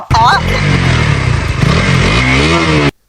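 KTM Duke 200 motorcycle engine revving loudly and steadily up close, with voices talking over the engine throughout.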